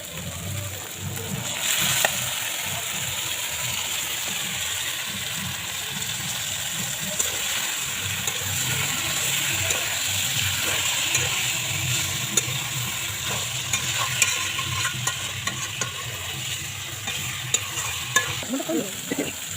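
Pieces of chicken sizzling in hot oil, close and steady, with scraping stir strokes and occasional clinks of a utensil against the pan throughout.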